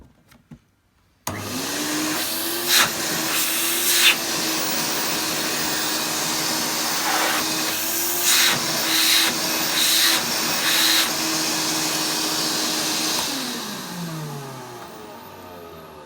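A newly unboxed vacuum cleaner runs with its hose removed, a steady close motor whine that starts abruptly, holds a constant pitch with a few brief airflow surges, then winds down near the end.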